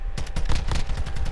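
Rapid video game gunfire rattles in a steady automatic burst of evenly spaced sharp shots, loud and close with no talking over it.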